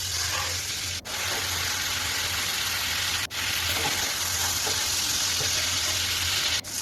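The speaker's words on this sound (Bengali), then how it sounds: "এবার তেল গরম হয়ে এলে আমি এতে দিয়ে দিলাম চিংড়ি মাছগুলো।" Shrimp rubbed with salt and turmeric frying in hot oil, a dense steady sizzle heard close up, broken by a few brief dips, with no voices.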